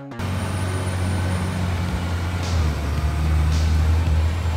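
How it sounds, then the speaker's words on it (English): Skoolie converted school bus on the road, its engine a loud steady low rumble with brief hissy air bursts, driven at a constant pace without talk. "Can you believe I'm driving the bus?"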